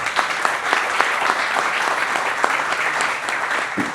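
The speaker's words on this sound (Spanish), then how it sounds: "Un fuerte aplauso" Steady audience applause at a citizens' forum on schools, welcoming a guest speaker: dense, continuous clapping of a sizable crowd at even loudness throughout, with no speech over it.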